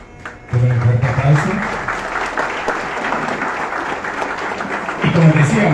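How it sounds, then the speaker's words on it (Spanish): Applause breaks out from the audience at the opening of a 60th birthday celebration, a dense steady clatter of many hands lasting several seconds, with voices talking over it at the start and end. "Todo un fuerte aplauso."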